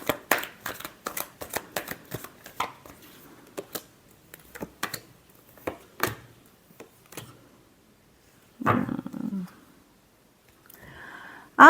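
Tarot cards shuffled by hand in a series of quick, crisp riffles and slaps, close and fairly loud, with short pauses between bursts and a brief rustle near the end.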